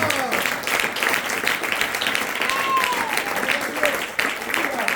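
Church congregation applauding during a pastor's sermon on the Great Tribulation, steady sustained clapping filling the room for several seconds, with faint voices mixed in beneath.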